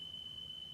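A faint, steady high electronic alarm tone sounds in the background of a quiet room and holds without a break for under a second.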